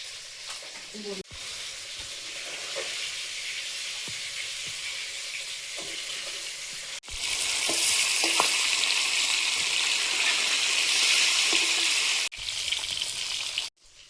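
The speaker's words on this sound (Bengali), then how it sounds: "মাছগুলো ভাজা হয়েছে, তুলে নেব।" Fish frying in hot oil in a home kitchen, a steady loud sizzle throughout that swells louder midway, with occasional clinks of a utensil and brief pauses.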